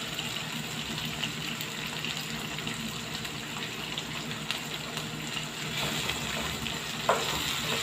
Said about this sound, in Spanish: Vamos a dejar que se sofrite un momento.